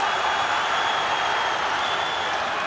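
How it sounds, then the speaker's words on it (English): A large boxing arena crowd at a WBO world light heavyweight title fight gives a sustained, dense roar and cheer in response to headshots, a continuous wash of noise from many voices. "Crowd respond to those headshots."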